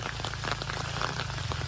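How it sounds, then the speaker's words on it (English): Steady rain patters and hisses in a dense, even wash of drops during a hard enduro ride at a Missouri ranch, continuous throughout with no voices. "Pardon the sound of the rain here."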